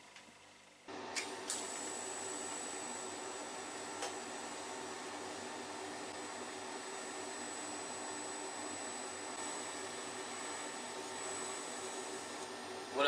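Workshop ventilation fan during TIG welding, a steady faint whooshing drone that starts abruptly after a moment and runs on evenly without speech.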